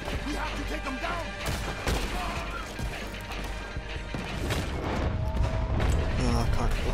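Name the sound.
gunfire in the video game Red Dead Redemption 2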